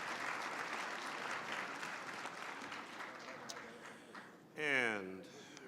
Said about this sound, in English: Let's give all of our award winners one more big round of applause